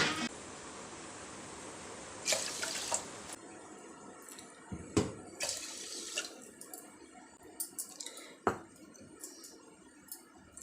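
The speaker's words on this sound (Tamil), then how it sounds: "இதில் நான் 3 கப் அளவுக்கு தண்ணி வச்சிடுறேன்." Water is poured into rice for cooking curd rice in a home kitchen, splashing and trickling in short bursts with pauses and a few sharp clinks of a vessel, close and moderately quiet.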